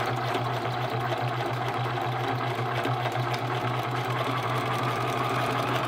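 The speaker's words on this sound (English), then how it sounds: "Sew a little bit, make sure you're straight. Sew a little bit more, make sure you're straight. Don't fight the machine." A sewing machine stitches fabric for a DIY backpacking lounger. Its rapid needle chatter and motor hum run steadily and close throughout, without pause.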